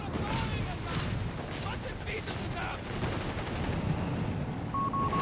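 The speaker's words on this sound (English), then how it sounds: "Mortar going in the front here." Mortar fire and other battle sounds in Company of Heroes 3, with repeated thuds, bangs and crackling gunfire under a commentator's continuous talk.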